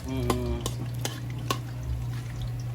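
Ginger fries in a generous amount of oil, with a steady low sizzle and a hum underneath, broken by a few sharp clinks of a utensil against the pan, close by with no talking.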